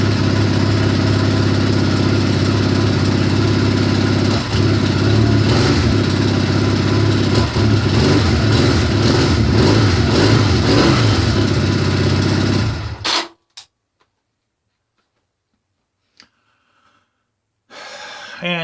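A small engine started with throttle and choke runs loud and steady up close, rumbling continuously before cutting off suddenly, leaving near silence.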